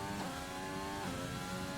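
A Formula 1 car engine in a racing video game, a steady high-pitched whine that rises in pitch as it accelerates onto its first lap of a Hungary race, continuous and fairly prominent without talking.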